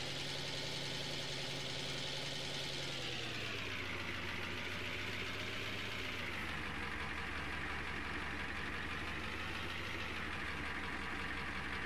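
A tractor engine idles steadily in Farming Simulator 15, a continuous mid-pitched rumble whose tone dips slightly partway through and then holds, with no talking.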